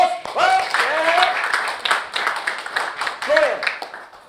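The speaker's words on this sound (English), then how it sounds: "Come on, give her a round of applause" An audience claps and applauds at a club seminar, brisk clapping running under a lively voice that rises into sung phrases before the clapping thins out.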